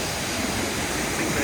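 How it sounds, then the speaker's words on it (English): A waterfall on the Rideau River gives a steady, full rushing roar of falling water, constant and close throughout. "there's two parts to this waterfall. This is the Rideau River, obviously"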